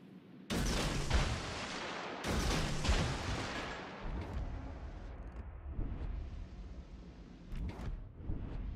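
Torpedoes launched in a naval video game, a series of sudden heavy whooshing blasts that start abruptly and then trail off into rumbling, scattered distant booms, loud and without talking.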